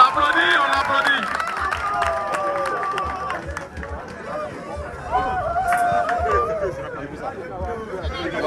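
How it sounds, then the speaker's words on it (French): An audience at an outdoor gas cylinder fire demonstration claps and murmurs, a busy spread of applause mixed with crowd chatter and shouted voices, fading a little midway before picking back up. "On l'applaudit, on l'applaudit."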